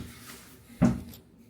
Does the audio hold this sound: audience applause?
no